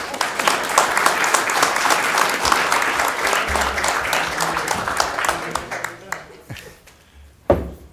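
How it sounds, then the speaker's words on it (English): Applause at a city council meeting, a dense, steady clapping from the room that thins out toward the end into a few scattered, separate claps. "Huge round of applause."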